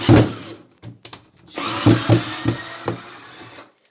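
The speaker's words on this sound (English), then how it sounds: "Let me try to unscrew it, get these boards out of the way." Screws are backed out of boards with a power driver, giving short buzzing whirs separated by clunks and knocks of wood, close and loud, then a brief quiet at the end.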